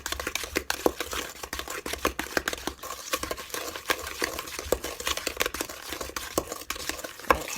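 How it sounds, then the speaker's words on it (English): Cake batter with eggs for pear ginger bread being mixed by hand in a bowl, a steady run of soft scraping and clicking spoon strokes, close and fairly quiet. "Keep mixing."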